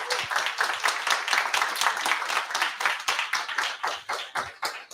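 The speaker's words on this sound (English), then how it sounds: "Can we get a round of applause for our speakers" An indoor audience at a product managers' meetup claps for the speakers, a steady run of brisk, fairly faint handclaps lasting throughout.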